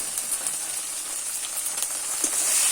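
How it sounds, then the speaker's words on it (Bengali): Meat masala and spices fry in hot oil in a pan for a banana-flower (mocha) curry, giving a continuous close crackling sizzle with scattered sharp pops that grows slightly louder toward the end. "এটাকে ভেজে নিতে হবে ভালো করে"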